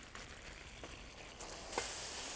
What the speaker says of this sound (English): That's why you call sizzling hot plate.